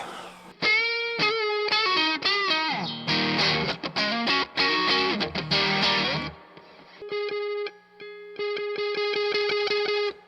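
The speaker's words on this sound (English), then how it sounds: "I did like the overdrive cranked up pretty high." Heavily overdriven electric guitar through a Warhorn overdrive pedal set around 3 o'clock plays fast riffs and sustained, compressed notes, loud and saturated, with brief pauses between phrases.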